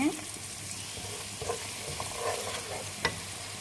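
Sweet soy sauce hits sizzling chicken in a pan with tamarind slices, for Javanese feast-style soy chicken: continuous close frying hiss, an initial pour splash, light stirring scrapes and a sharp clink near the end.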